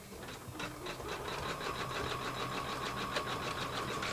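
An embroidery machine stitches a stained glass table runner, its needle hammering in a fast, steady mechanical rhythm with a constant motor hum, close and continuous throughout.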